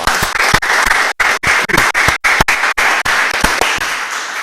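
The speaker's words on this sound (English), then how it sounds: "I want to give them a round of applause." A meeting audience at a town public hearing breaks into a sustained round of applause, dense overlapping clapping that carries steadily through with brief dips, no voices over it.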